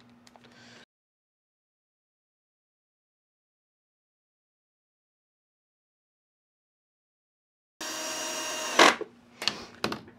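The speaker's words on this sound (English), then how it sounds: "Now we're going to take our screws and just screw it in." A power driver sinks screws into the wooden parts of a table saw bevel jig, with a brief whir at the start, a long silence, then a loud buzzing run ending in short sharp bursts.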